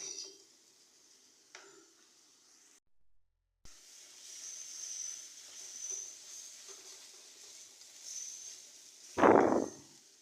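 Onions for prawn gravy sautéing in a pan give a faint, steady hiss, with occasional light stirring clinks and a louder scrape or sizzle burst near the end.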